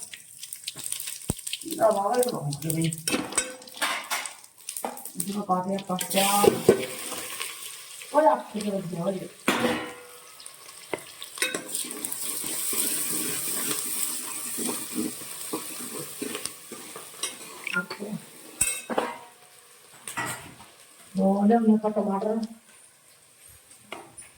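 Tap water runs and splashes intermittently while food is rinsed for a soybean curry, a hissing stream in on-and-off stretches under frequent talk.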